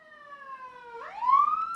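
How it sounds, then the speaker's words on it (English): A siren wails with clear tonal sweeps, falling slightly and then rising in pitch and loudness, fairly faint and distant over a quiet background. "just a ambulance going by."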